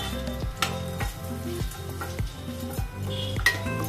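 Cashews and curry leaves fry in hot oil, giving a constant crackling sizzle broken by regular scraping strokes of stirring roughly every half second, close up and with no talk.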